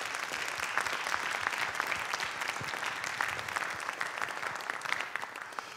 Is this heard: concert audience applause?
yes